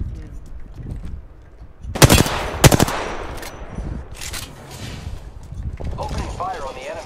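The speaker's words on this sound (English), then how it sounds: "Opening fire on the enemy. Reloading. The enemies are shooting at me." Rapid bursts of gunfire from an Apex Legends match ring out loudly in the middle, with a few further single shots and game effects around them, over a steady background bed.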